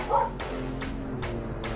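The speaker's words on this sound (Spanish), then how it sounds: "Ya me salieron los perros, aquí van a morder." Dogs bark and yip in a back alley in East Los Angeles, a quick run of short barks near the start followed by steady street background with a low hum, no talking.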